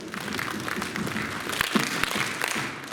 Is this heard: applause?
yes